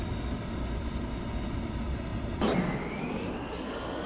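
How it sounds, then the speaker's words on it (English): Eurofighter Typhoon jet engines idling at low throttle in a flight simulator game: a steady broadband roar with sustained high whine tones, interrupted midway by a brief thump and shift to a duller, lower-pitched drone. "Alright, engines are all the way down."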